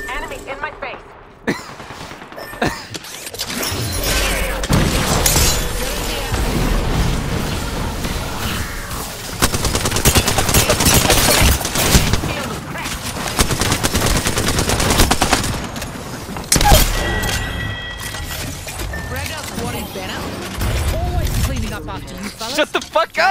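Dense, sustained gunfire from an Apex Legends firefight, with bursts of automatic weapons and heavy shots piling up loud and close for most of the stretch, mixed with game effects and the players' excited talk.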